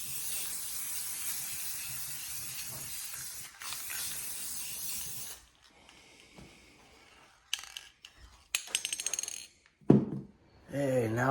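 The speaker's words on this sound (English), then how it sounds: "I'll throw clear coat on it" Aerosol clear coat sprayed onto a shaped skateboard deck: a steady broad hiss for about five seconds, then quieter stretches broken by short bursts of spray, clicks and handling noises near the end.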